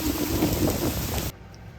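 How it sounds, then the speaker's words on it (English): Steady rain falls outside a boat at anchor as mist blows through, a loud continuous hiss that stops abruptly just before the end. "With the rain outside"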